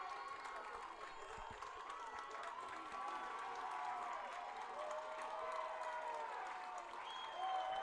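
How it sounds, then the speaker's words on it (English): Spectators at a boys' high school football game between Franklinville/Ellicottville and Salamanca keep up a distant, faint roar of cheering and applause with shouts and whistles, swelling toward the end. "Boy, this crowd's going nuts."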